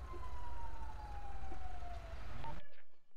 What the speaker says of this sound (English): Oh, I can hear more siren.